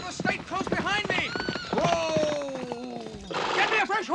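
Horse hooves clatter in a quick galloping rhythm beneath shouting voices and a busy scene, moderately loud, with the hoofbeats partly buried under the talk.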